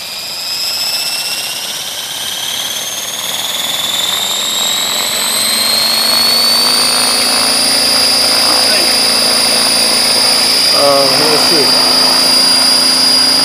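A model AH-1 Cobra helicopter runs up on its maiden flight, its turbine-like whine climbing in pitch and loudness as the rotor spins up, close and steady, with voices talking over it.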